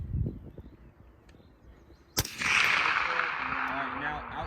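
A single sharp crack from an M110 sniper rifle during outdoor sniper team practice, followed by a long, bright rolling echo that carries across open ground, after low murmuring voices before the shot.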